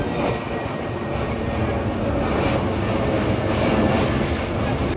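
A steady broadband roar of an airplane passing overhead near Ahmedabad, sustained and fairly loud for the whole stretch, with no talk.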